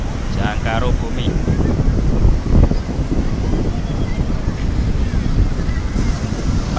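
Waves and wind at Ambal Beach in Kebumen, a steady loud roar of surf with gusty wind buffeting the microphone throughout.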